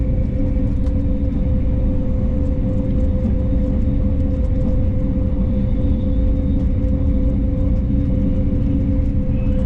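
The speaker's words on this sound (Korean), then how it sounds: "잠시 뒤 충북 청주시에 진입한 열차는 KTX 오송역을 통과합니다." A loud, steady rumbling roar of a KTX high-speed train running past Osong Station in Cheongju, South Korea, with a constant low drone and hum and no pauses.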